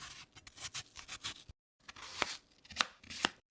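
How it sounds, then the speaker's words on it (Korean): A knife chops a peeled pear into small pieces on a cutting board, with a rapid run of crisp close taps, a brief pause, then a few more distinct cuts. "배는 껍질을 벗기고 과육만 작게 썰어줍니다."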